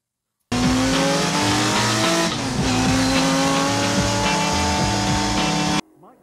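A V8 stock car engine roars loudly and continuously at close range as it races around a UK track, with a steady droning pitch and a brief dip partway through.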